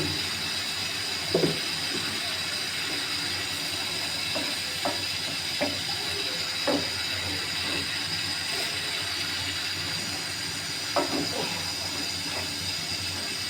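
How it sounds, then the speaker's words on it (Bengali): Tomatoes fry in oil in a home kitchen for tomato bharta, giving a steady, quiet sizzle with scattered soft pops and crackles and no talking. "টমেটোগুলো এদিক দিয়ে তেলে ভাজতেছি"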